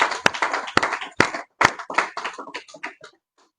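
A church congregation claps in sharp, irregular hand claps, loud and close at first, then thinning and fading out over a few seconds.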